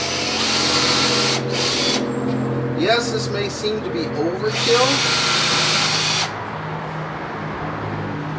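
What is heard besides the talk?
power drill drilling holes in wood board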